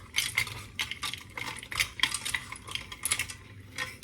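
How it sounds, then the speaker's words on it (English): A measuring spoon clinks and scrapes against a bowl while stirring dumpling mixture, with irregular light metallic taps and rustling in quick succession. "We're just gonna use our measuring spoon here to stir it all up and combine it all together."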